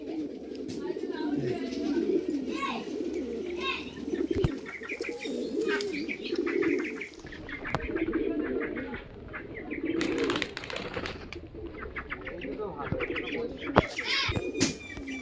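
Kaldom, Laldom and Kala-Sabuj pigeons coo softly and steadily in a loft, with chirps, brief wing flaps and someone talking over them.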